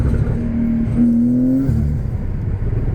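Porsche 993 Turbo engine on the road: a loud, close, rising engine note as the car accelerates, pulling up in pitch and then easing off into a steady rumble.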